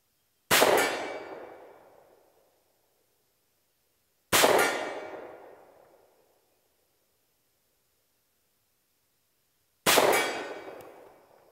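Three separate pistol rounds from a SAR USA K2 .45 ring off a steel target at distance, each a sharp metallic clang that decays over a couple of seconds, spaced several seconds apart with silence between.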